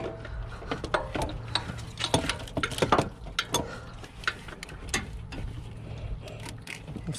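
A hand wrench ratchets on an alternator bolt of a Chrysler 300 3.5L Limited, giving uneven close clicking bursts with pauses between strokes.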